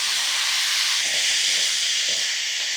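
Chopped tomatoes, three or four, hit hot oil in a pan for egg curry, producing a loud, continuous hissing sizzle up close that holds steady for a few seconds with no voices.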